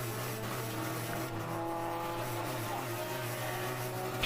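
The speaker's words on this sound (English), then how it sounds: "I think he's trying to burn out a piston right now" A race car engine at an endurance race at Thompson Speedway drones steadily with a strained, continuous tone, heard from some distance. A car there is suspected of burning out a piston.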